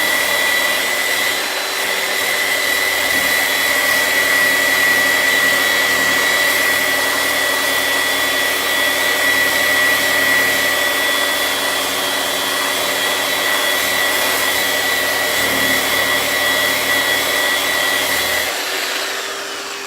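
A Festool RAS rotary sander shaping wood gives a loud, steady motor whine with a high tonal hum, running continuously and close by before winding down slightly at the end.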